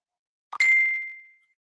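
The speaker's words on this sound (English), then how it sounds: "I'm getting notifications on my pages." A single bright notification ding rings out clearly on its own, a short sharp strike that fades out smoothly over about a second.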